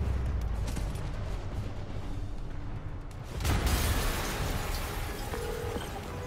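An explosion in the Spider-Man Remastered video game: a sudden broadband blast partway through breaks over a dense, rumbling game soundscape, then fades into a sustained roar.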